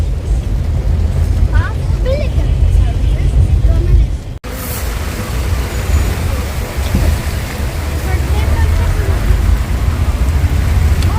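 Rain and traffic on a flooded street in Zirakpur, a continuous wash of water and low rumble with splashing, under people talking, with an abrupt shift partway through.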